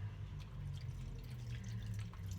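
A small amount of water is poured over a tray of Greek vegan stuffed vegetables (gemista), giving a soft, faint trickle and drip over a steady low hum.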